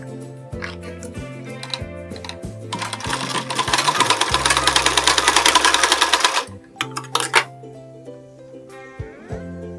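Sewing machine stitching blouse pieces together, running in short bursts and then one long fast continuous run, with mechanical clatter and pauses between the stitching.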